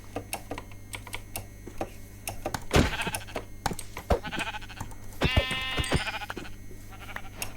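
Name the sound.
sheep bleating in Minecraft video game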